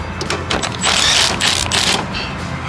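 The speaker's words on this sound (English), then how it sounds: "Get these bigger nuts off." Large nuts come off a sickle section on a John Deere S790 combine, with loud, close metallic clicking, ratcheting and rattling that runs on with no one talking.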